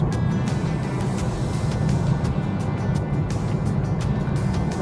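BMW 320d M Sport diesel car with an 8-speed gearbox climbing a steep hill, a steady low engine drone and road rumble heard from inside the cabin, continuous and even with no talking.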